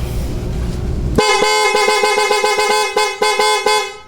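After a second of steady engine noise from a 2013 Suzuki Smash 115 motorcycle, its aftermarket Piaa horn blares in a rapid series of repeated honks, close and harsh.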